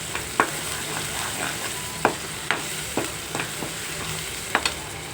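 Onion paste and ginger-garlic paste frying in a pan for a cashew drumstick masala curry, a steady soft sizzle broken by several sharp scraping stirs of a spoon at irregular intervals, close and moderately loud with no talking.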